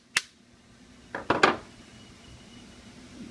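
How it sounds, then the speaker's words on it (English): A pin is hammered into a fast action trigger: one sharp metallic tap, a pause, then a quick cluster of three tapping strikes, close and clear in quiet surroundings. "hammer the pin in all the way"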